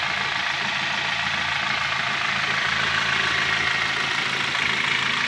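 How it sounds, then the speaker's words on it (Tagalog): A 2011 Hyundai H-1 engine idles smoothly without knocking, a steady, close, continuous hum and whir at even volume throughout, with no voices. "naka idle speed ko ngayon, wala nang ingay"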